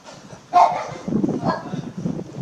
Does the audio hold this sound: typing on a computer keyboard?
no